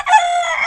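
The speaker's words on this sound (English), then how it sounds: "we have a bunch of chickens running around out here in the barnyard" A mixed breed rooster crows loudly and close in a barnyard, one sustained call.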